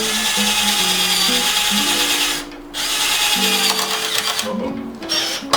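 Carbide drill bit boring through a metal patio umbrella rib, a loud steady whine that dips briefly twice as the bit bites, running close and continuous.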